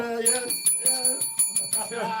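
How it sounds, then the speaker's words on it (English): A bright bell rings in a quick series of repeated metallic strikes, close and fairly loud, with brief voices mixed in at the start and end. "Ring the bell."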